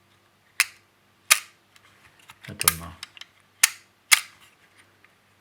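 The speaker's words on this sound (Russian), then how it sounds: "хочу показать, как затвор" A Smena 8M film camera shutter clicks close up, five crisp separate snaps spaced about a second apart, with brief handling noises and a short spoken phrase between them.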